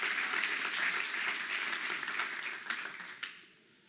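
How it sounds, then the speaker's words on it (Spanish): Church congregation claps together in a fairly distant, even wash of applause, a few sharper individual claps standing out before it dies away at the end. "Dale un aplauso al Señor."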